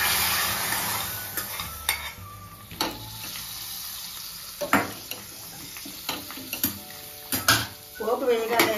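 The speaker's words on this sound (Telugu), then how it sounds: "ఒకసారి మూత తీసి చారులో పోపు అంతా వేసేస్తున్నానండి" Hot tempering tipped into a pot of rasam on a switched-off stove, giving a brief crackling sizzle mixed with scraping stirs and clinks of a pan and spoon, several sharp bursts spread through an otherwise quiet kitchen.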